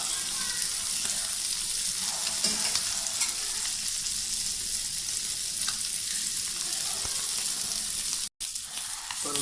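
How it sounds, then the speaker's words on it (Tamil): Tilapia (jilebi fish) pieces frying in hot oil, a steady loud sizzle with stirring and scraping running throughout, one brief gap near the end. "ஏன்னா ஆயிலே ஃப்ரை பண்ணால் மட்டும்தான் அது நல்லா வெந்து வரும், தீயாது."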